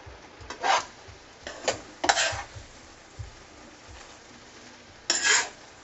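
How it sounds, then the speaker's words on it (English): Yam stir fry being mixed in a pan, a few separate scraping, rubbing strokes of a utensil against the pan at a steady moderate level with quiet gaps between them. "I'm just going to mix it in"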